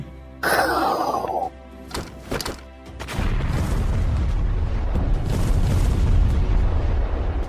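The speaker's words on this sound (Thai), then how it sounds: "เตรียมตัวยิง" Dramatic sound effects for a manga action scene: a sharp blast burst, a few heavy thuds, then a sustained rumbling roar of gunfire and explosion that stays loud to the end.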